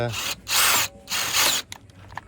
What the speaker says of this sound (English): simple matter now, just using cordless drill